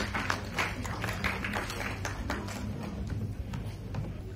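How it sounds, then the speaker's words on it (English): An audience at a school stage event applauds, a steady wash of many hands clapping with scattered sharper claps, moderately loud and sustained throughout. "So please motivate them with huge round of applause."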